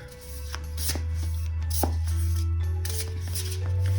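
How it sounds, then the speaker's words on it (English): Close, soft riffling of tarot cards being shuffled over a steady low hum, with light taps and flicks throughout. "these cards are a dream to shuffle, they truly are."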